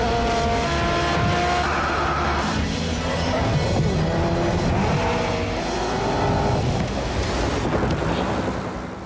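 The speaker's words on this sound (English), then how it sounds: "it's time to rev up your engines and push the line in Grid Autosport!" Racing car engines in the video game Grid Autosport, a continuous loud roar of several engines with rising and falling revs, heavy rushing noise and no talking.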